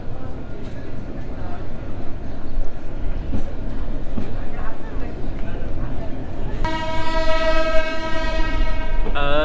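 A university shuttle train in Chittagong pulls away with a constant loud rumble and clatter of carriages and faint voices around it, then a long, blaring horn sounds close by for the last few seconds.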